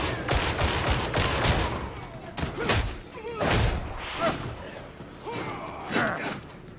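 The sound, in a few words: gunfire from a gun in the video game Warhammer 40,000: Darktide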